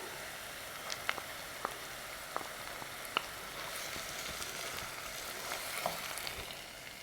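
Pepper paste and tomato paste frying with onions in a pan for a pastırma and dried bean stew, a steady soft sizzle dotted with small crackles and pops, no voices.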